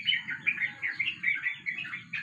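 A young pigeon gives a quick run of thin, high chirps, repeated rapidly and close, over a faint low rustling background with no talking.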